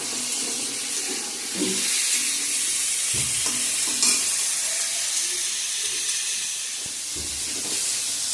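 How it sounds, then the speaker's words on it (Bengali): Potatoes fry in a hot pan with salt and turmeric, giving a steady close sizzle and hiss with occasional scraping stir strokes throughout. "লবণ হলুদ দিয়ে ভালো করে ভেজে নিব"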